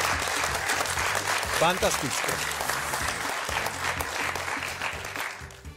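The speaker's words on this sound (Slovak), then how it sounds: "Ďakujem, ďakujem za ten potlesk." A television studio audience applauds throughout, a dense, steady clatter of clapping heard up close. Someone speaks briefly over it.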